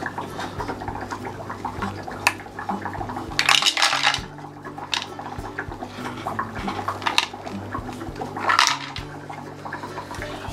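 Ceramic filter rings dropped into an aquarium hang-on-back filter, giving a series of close, bright clinking rattles in scattered bursts over a steady background hum.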